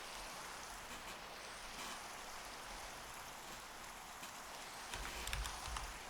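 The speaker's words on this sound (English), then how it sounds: "Insane timing for the rain." Steady rain falling outdoors at night, a soft continuous hiss of drops with a slightly heavier gust near the end, no talking.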